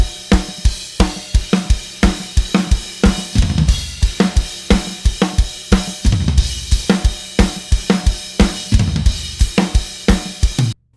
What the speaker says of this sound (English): if you pull this track into your drum mix, it will become like a Snare Fattener